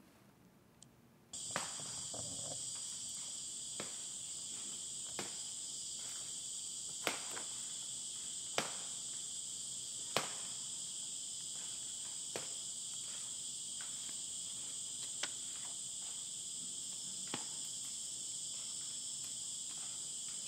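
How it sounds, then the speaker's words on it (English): Forest ambience deep in Satkosia forest in Orissa, India, a loud continuous insect chorus with a high, steady cricket-like whine starting after a quiet moment, with faint scattered clicks and ticks underneath and no one speaking. "What you're hearing is all the ambient noise in the middle of the forest"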